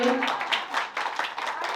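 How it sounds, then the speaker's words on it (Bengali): An audience at a Bengali drama event claps in scattered, uneven bursts at moderate volume, mixed with the voices of people talking. "স্ন্যাক্স এর জন্য হাততালি দিন"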